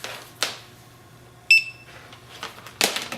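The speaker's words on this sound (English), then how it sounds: "You hear it beeping to verify that it's on." A handheld barcode scanner gives a short, bright electronic beep as it powers on, clear and close. Soft clicks and handling knocks sit around it, with no talking.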